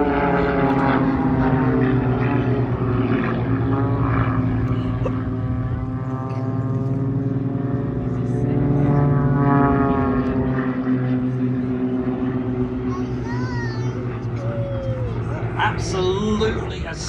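Global Stars propeller planes fly an aerobatic display flyby, their engines giving a loud, continuous droning buzz that rises and falls in pitch as they pass, with a commentator speaking over it at an air show.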